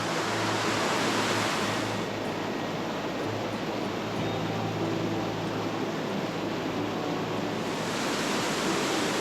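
Steady, dense rushing of a creek's flowing water in North Cascades National Park, close and continuous throughout, with no voices over it.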